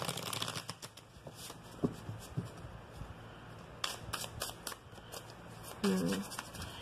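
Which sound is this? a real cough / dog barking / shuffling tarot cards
shuffling tarot cards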